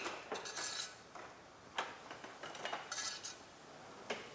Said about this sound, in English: I'm just going to use a spoon to put the frosting on.